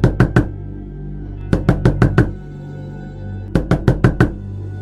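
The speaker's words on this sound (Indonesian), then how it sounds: "Ketukan yang sama, intens, dan biasanya terdengar 3 kali berturut-turut tanpa ada jeda." Three sharp, intense knocks in quick succession, repeated in three separate bursts, loud and close with no talking, used as a horror story sound effect.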